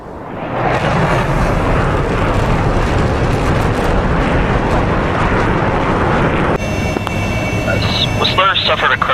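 Loud, continuous jet roar from an A-15 aircraft in the DCS flight simulator, a dense rushing engine wash that thins and shifts tone near the end, with a radio-style voice talking over it.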